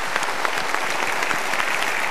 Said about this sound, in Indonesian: So kita berikan tepuk tangan untuk mereka.